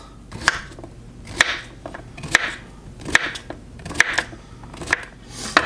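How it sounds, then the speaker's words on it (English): A knife cuts cucumbers into thin slices for refrigerator pickles on a cutting board, making crisp, close chops at a steady pace, about one every second, each with a short scraping swish. No voices. "So now we're just going to slice these into thin slices."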